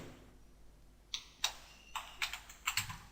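Keys clatter on a computer keyboard as a short title is typed into a web page editor, a cluster of quick, close clicks in uneven bursts with no one speaking.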